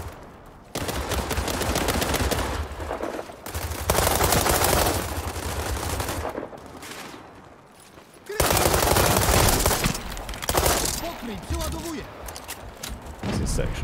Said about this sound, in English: Let's watch multiple RPGs fly at this tank up there.